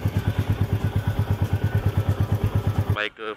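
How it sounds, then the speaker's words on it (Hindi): A motorbike idles while warming up, its engine thumping in a steady, rapid pulse close by before cutting off abruptly near the end. "मेरी बाइक है, बाइक गर्म हो रही है"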